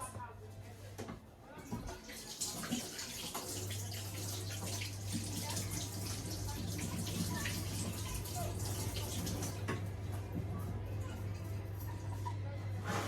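Hands are washed under a running tap in a home kitchen, a steady close splashing stream that continues throughout, with a low hum underneath and a few brief clunks.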